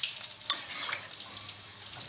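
Batter fries in hot oil with a continuous close hiss and light crackle, short and steady, with no voices.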